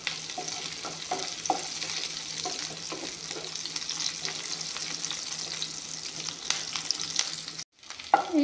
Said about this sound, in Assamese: এতিয়া পিঁয়াজখিনি অলপমান ভাজি ল'ম।